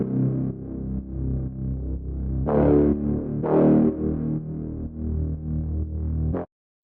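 A distorted growl-style bass synth from a deep house drop, processed with Saturn distortion, plays a loud, sustained wobbling tone with two brighter snarling swells before cutting off abruptly.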